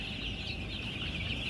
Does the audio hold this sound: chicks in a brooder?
yes